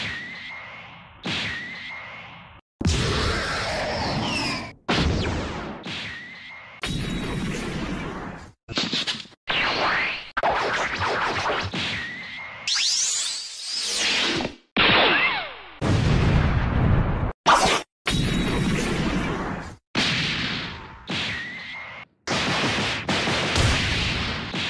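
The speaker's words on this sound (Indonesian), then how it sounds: "Gamma 1 menembakkan Gamma Blaster miliknya" Energy blaster fire and explosions from the Dragon Ball Super anime, a chopped sequence of loud whooshing blasts, booming bursts and sudden cuts to silence, with no speech.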